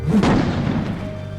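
A heavy artillery explosion from Second World War battle footage: one loud, booming blast that rolls out and slowly fades into a low rumble.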